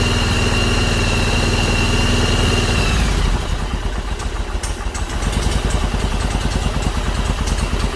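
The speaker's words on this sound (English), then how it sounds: "We can rev it up a little bit." A Yamaha Virago 1100 motorcycle engine, running without air cleaners during a revival, idles with a steady hum for about three seconds, then revs up into a rougher, pulsing roar, loud and close.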